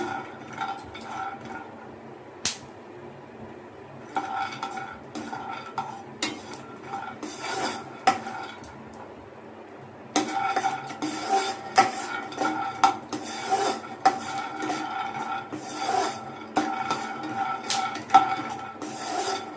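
Chicken pieces fry in a pan for a Sunday chicken fry piece biryani while a spoon stirs and scrapes them. The bursts of metallic rubbing and scraping come in intermittent spells with short pauses, busier and louder in the second half, without speech.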